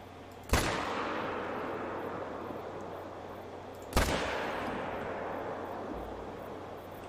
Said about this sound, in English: so I kind of followed up a shot to make sure I got her